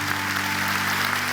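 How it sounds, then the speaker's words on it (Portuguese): A church congregation applauds in a steady, even wash of clapping over a low hum, sustained without breaks and no talking. "Vamos aplaudi-lo, né, pessoal?"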